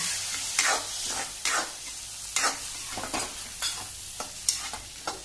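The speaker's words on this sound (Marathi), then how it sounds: "हे पळया आता 1 चमचो उदक घेता आणि घालता भितर।" Turmeric and a spoonful of water are stirred into bread bhaji in a hot pan, with repeated scraping strokes and a soft sizzle, close and fairly quiet, no talking.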